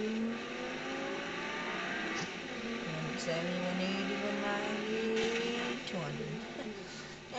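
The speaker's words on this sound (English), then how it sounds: "this car's a very fast car" A very fast car in the Just Cause 3 video game accelerates, its engine whining and rising in pitch through repeated gear shifts, steady and fairly loud over several seconds.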